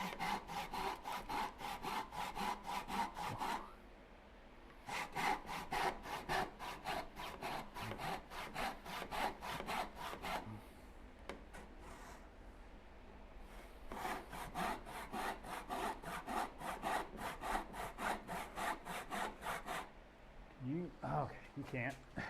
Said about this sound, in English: it's a back saw, so you can get longer, straighter cuts because of the rigid bar